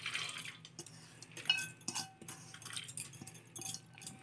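Toor dal lentils are poured from a small bowl into a pressure cooker in a home kitchen, giving soft, close clinks and light rattles of metal and grains in quick, irregular bursts.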